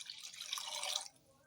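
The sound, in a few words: water being poured into cooking pot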